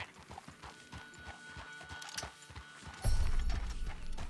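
Horse hooves clip-clop in Red Dead Redemption 2, a steady run of hoofbeats at moderate level that grows louder and heavier near the end, with no talking over it.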